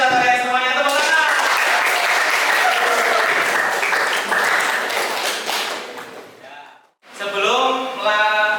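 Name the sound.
class applauding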